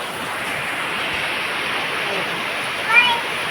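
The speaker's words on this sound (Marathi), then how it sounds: "पाऊस चालू वारा पण आहे आणि पाऊस पण आहे" Steady rain pours down while wind blows through, a constant, even wash of hiss with one brief brighter flare near the end.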